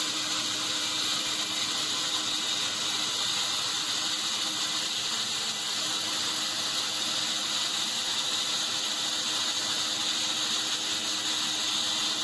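A steady, fast mechanical whir and rattle of a sawmill blade running at full speed through wood, continuous and even, with no voices.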